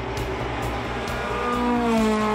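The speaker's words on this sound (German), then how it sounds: "Der Trabant von Ronny und Mike Urland beschleunigt mit 285 PS von 0 auf 100 in 4 Sekunden" A 285 hp Trabant race car accelerating hard at a hill climb, its loud engine note climbing steadily in pitch and building in volume as it pulls away, with no voices.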